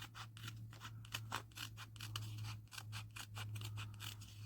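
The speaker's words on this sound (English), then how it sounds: "I need to use these scissors" Scissors snip through fabric scraps in a fast, steady run of crisp, close cuts, about three or four per second, over a low electrical hum with no talking.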